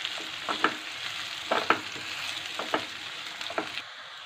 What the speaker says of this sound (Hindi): डालेंगे प्याज, इसे सुनहरा होने तक अच्छी तरह से हम भूनेंगे।